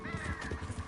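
Horse hooves clip-clop in a quick rhythmic gallop while riding in Red Dead Redemption 2, close and clear, with faint game ambience behind.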